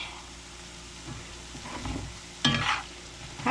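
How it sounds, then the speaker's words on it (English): Potatoes and onions fry in a pan while being stirred, a soft sizzle under scraping and clattering stirs that grow louder, with a sharp burst near the end. "I'm cooking me some taters and onions."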